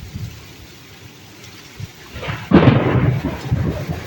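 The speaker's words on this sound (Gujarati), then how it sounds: "વરસાદ પણ ચાલુ થઈ ગયો હા મોટા મોટા છાંટા પડે છે ને વાવાઝોડું તો યાર ચાલુ જ છે" Dull rumbling thunder rolls in and swells into a loud burst, with heavy rain pouring steadily and gusty wind throughout.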